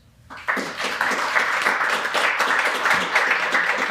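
An audience at a film festival panel breaks into applause, a sudden dense burst of clapping from a full room that stays steady and sustained throughout.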